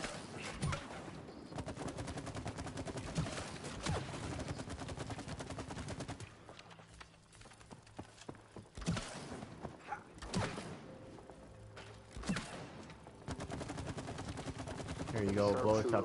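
Shooting at targets in the video game It Takes Two, with repeated gunfire and thumping impacts running steadily through busy game noise and occasional background voices.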